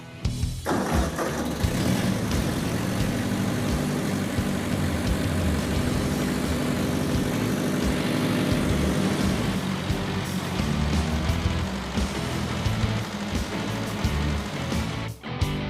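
A Ford 8N tractor engine runs loud and close as the tractor drives, a continuous rough drone that shifts in tone partway through and dips briefly near the end, with no talking.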